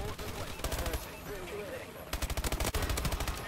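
Rapid automatic gunfire from the video game Call of Duty Advanced Warfare during a team deathmatch plays in clustered bursts, with a longer volley near the end, while a player's voice talks over the action.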